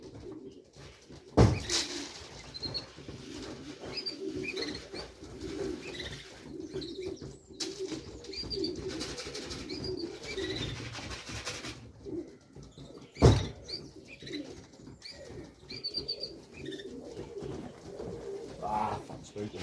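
Racing pigeons coo softly on race day, mixed with wing flaps and chirps, under near-constant talk and a couple of loud thumps.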